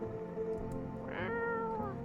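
A cat meows inside the video game No, I'm Not A Human: a drawn-out, wavering cry rising in the middle, heard close and clear over a steady low background hum.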